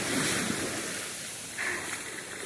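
Pacific Ocean waves breaking on a rocky shore in Hokkaido, Japan, a steady close wash of surf with wind buffeting the microphone and a brief swell of spray partway through.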